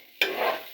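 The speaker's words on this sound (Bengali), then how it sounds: "পোলাও রান্না করতে চালটা যত সুন্দর করে ভাজা হবে তত ভালো করে সিদ্ধ হবে" Rice for pulao fries and is stirred in a pan, a sudden loud scraping sizzle starting partway through and holding steady, close and alone without talk.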